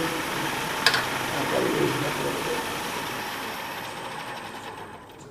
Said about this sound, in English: now I'm just using a hunter tool